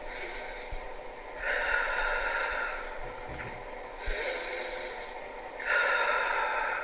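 Slow, deep breaths are taken in a deep breathing exercise, three long forceful breathy exhales and inhales in a steady rhythm, close to the microphone, with no speech.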